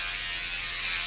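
Electric toothbrush buzzing in a steady, continuous drone at close range, holding an even level throughout with no voices over it.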